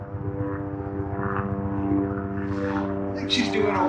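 A propeller airplane drones steadily overhead, with a voice briefly heard near the end.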